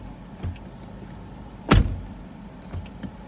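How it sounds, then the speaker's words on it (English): A truck door swings shut with one sharp, solid slam in the middle. Softer clicks and thuds from the cab come before and after it, against a low, quiet interior hum with no talking. "I literally have to sit here and shut my door 50 times."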